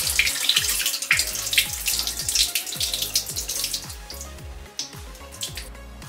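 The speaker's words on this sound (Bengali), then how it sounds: "চালটা ধুয়ে রাখছি" Rice is rinsed in a kitchen sink under running tap water: a steady splashing stream with rhythmic sloshing and swirling as the grains are stirred and the water is poured off, close and alone.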